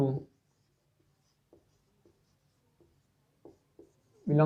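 A marker or chalk scratches out several short, faint strokes on a board during a maths lesson on sets, with someone speaking just before and after.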